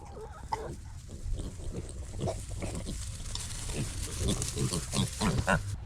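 Pigs grunt and snort in short bursts nearby, overlapping one another, with a voice speaking at times over the grunting.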